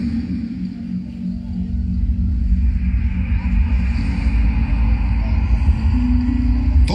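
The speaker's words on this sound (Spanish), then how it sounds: "Traicionera tormenta." Low rumble of a storm in an animated Christmas undersea film, a continuous deep roar with a steady drone over it, rising slightly toward the end.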